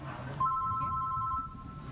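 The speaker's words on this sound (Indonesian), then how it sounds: "Ini lagi syuting kok ada telepon?" A telephone rings on the set of an Indonesian dating game show, a single clear electronic tone that holds for about a second over background room noise.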